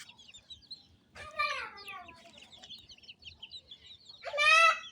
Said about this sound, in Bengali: আরো 5টা মুরগি বাকি আছে